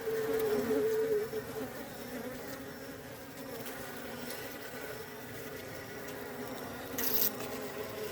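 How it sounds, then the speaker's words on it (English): Bees, small wasps and blue flies buzz around something sweet outdoors, a steady close insect hum that stays through the whole stretch with a brief louder swell as one passes near. "You have bees, you have the blue fly, you have the small, the little bee."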